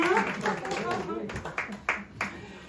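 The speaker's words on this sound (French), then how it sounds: "S'il vous plaît, applaudissez à nos parents" A few scattered hand claps break out at an anniversary party for the Kafkerin in Brest, greeting the parents. A voice talks over the start, then short, separate claps come through close by.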